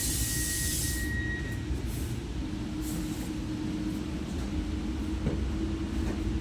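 Interior of a moving double-decker passenger train in Italy: a low, steady rumble and rolling hum fill the cabin, with a faint high tone early on and occasional soft knocks.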